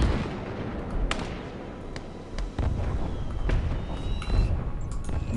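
Artillery rounds landing in Call to Arms: Gates of Hell, a World War II Eastern Front strategy game, with several sharp impacts in quick succession over a dense, continuous rumble of battle noise, loud and close.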